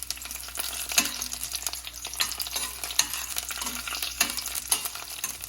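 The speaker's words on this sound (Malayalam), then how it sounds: "ഇതൊന്ന് വഴറ്റി കൊടുക്കാം നമുക്ക്." Garlic and dried red chillies sauté in oil in a pan, a steady close sizzle broken by repeated scraping stirs of a spoon against the pan, with no talking.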